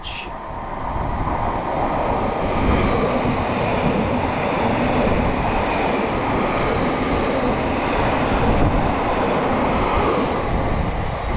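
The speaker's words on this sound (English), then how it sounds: "passing through now, we have a Greater Anglia service to Norwich" Greater Anglia passenger service to Norwich, a Class 755 pair, running through a small station near Needham Market, producing a steady, close rumble of wheels and motors that holds throughout.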